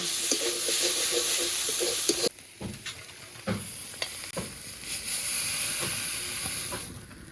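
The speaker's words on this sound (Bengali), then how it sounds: "পাতাকপিটা একদম ভাজা ভাজা করে নিয়েছি। এবার জিরে গুঁড়োটা দিয়ে দেবো" Shredded cabbage fries in a pan as cumin powder goes in, giving a close, steady sizzle and hiss. Several sharp clatters of stirring break through after a sudden drop in the frying noise, and no one speaks.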